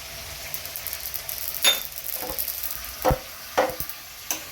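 Cashews and poppy seeds fry in a pan with a steady soft sizzle, broken by a few sharp scraping stirs of a spoon against the pan.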